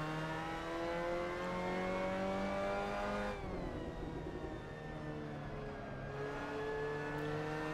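Mazda MX-5 Cup race car engine in a sim racing game at Okayama, a steady droning note that holds pitch, then drops and settles lower as the car shifts and continues, loud and alone throughout.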